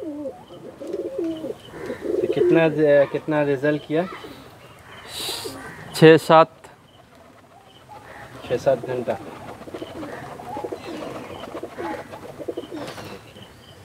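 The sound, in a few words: Madrasi pigeons cooing in a loft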